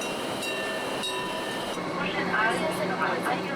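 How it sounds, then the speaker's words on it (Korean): The Jungfrau Railway train from Kleine Scheidegg rolls along toward a tunnel with a continuous rumble and faint metallic squeals, a voice speaking over the running noise. "열차는 곧바로 터널로 진입한다."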